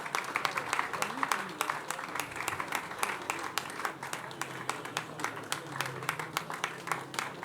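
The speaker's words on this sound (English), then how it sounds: "Shall we keep clapping?" A university congregation audience claps steadily in a large hall for a descending honoree, a dense, even wash of applause with faint voices underneath.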